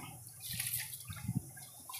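Rice washed by hand in water, giving soft, faint sloshing and light dripping, close by and quiet with no voices.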